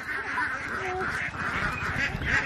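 Domestic ducks at a village homestead in Disangmukh, Assam, quack and honk continuously and close by, a busy overlapping chorus of nasal calls with no talking.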